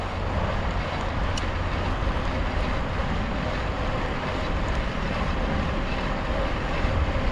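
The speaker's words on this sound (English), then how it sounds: "we're probably going to get some pretty good wind noise as we're going about 14 miles an hour" Steady, loud roar of wind buffeting the microphone while cycling at about 14 mph along the Olympic Discovery Trail, a constant rushing noise filling the whole clip with no talking.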